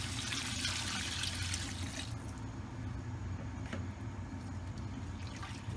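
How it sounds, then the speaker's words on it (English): Beef stock pours steadily into a pan of flour for Swedish meatball gravy, a continuous soft liquid rush that eases off after about two seconds and settles into a quieter trickle. "add in about 4 cups of beef stock"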